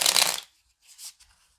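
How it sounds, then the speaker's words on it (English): Playing cards shuffled in one quick riffle during a Tanglewoods: Gold board game session, a loud burst of flicking cards followed by a few softer, brief card-handling sounds. "Alright, let's do a shuffle here."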